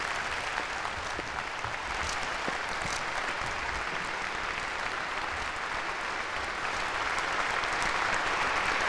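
A big, sustained round of applause from a large audience fills the Macau Dome at an election ceremony, steady and dense throughout with no break.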